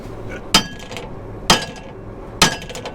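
Three loud, evenly spaced metallic hammer blows ring out against a stuck slide gate on an auger, each strike sharp and close with a short clanging decay.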